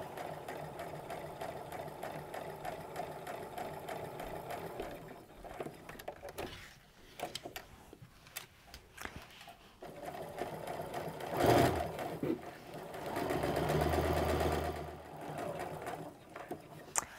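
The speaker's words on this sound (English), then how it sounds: "you can start stitching down to pivot on the other side" A sewing machine stitching an apron waist tie runs in steady whirring bursts, pausing briefly between runs as the fabric is turned, with a louder fast run near the end.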